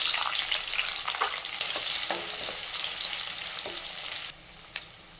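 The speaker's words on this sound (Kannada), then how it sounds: "ಹಸಿಮೆಣ್ಸಿನ್ಕಾಯಿ ಹಾಕ್ತಾಯಿದ್ದೀನಿ. ಸ್ವಲ್ಪ ಈರುಳ್ಳಿ ಹಾಕ್ತಾಯಿದ್ದೀನಿ" Green chilli, onion, bay leaf and star anise fry in hot oil for poha vegetable bath, making a loud, close, steady sizzle with stirring scrapes that drops sharply near the end, followed by a single clink.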